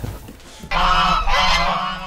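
Farmyard fowl at a village smallholding, a sharp nasal honking call that starts suddenly and carries on loud and close for over a second, with a short dip partway through before it rises again.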